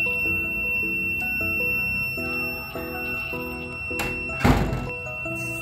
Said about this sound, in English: check if the thief alarm works